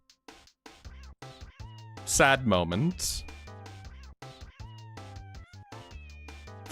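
Kittens meow repeatedly under a person's ongoing speech, with a louder burst of high, wavering cries in the middle of the stretch.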